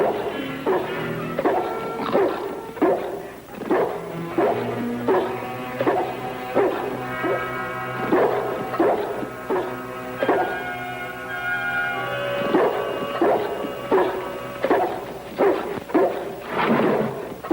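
A St. Bernard barks and yips repeatedly, close and loud, in uneven bursts with short whimpering sounds between.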